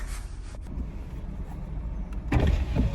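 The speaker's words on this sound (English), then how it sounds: "So lift your finger up on the button, the windows will all go down ever so slightly" Power windows on an Audi A3 convertible lowering slightly as the roof release begins, a low electric motor whir inside the car that swells and grows louder toward the end.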